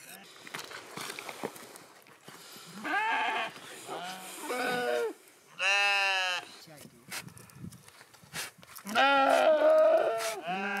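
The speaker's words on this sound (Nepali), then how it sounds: "जाडो छल्न झरेका भेडाहरू गाउँछेउकै लालीखर्कमा आइपुगेका छन्। असोजदेखि बढेका भेडाका लामा रौँहरू मुण्डन हुँदैछ।" Sheep brought down to a village-side pasture in Nepal for shearing bleat repeatedly in loud, wavering calls, with a voice speaking between and over them and quiet shuffling in the background.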